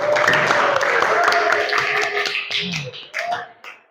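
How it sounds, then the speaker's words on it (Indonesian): Scattered clapping from a classroom of pupils applauding a classmate, a short ragged burst of claps with voices mixed in, fading out over a few seconds. "tepuk tangan untuk Pasha"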